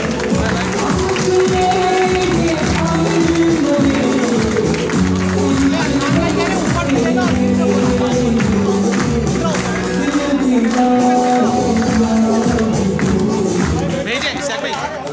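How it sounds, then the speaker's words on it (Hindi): A large crowd claps and cheers at a Labour Division foundation day gathering in PIB Colony, the loud, dense applause running throughout with crowd chatter and voices mixed in. "आप सबकी भरपूर तालियां होनी चाहिए।"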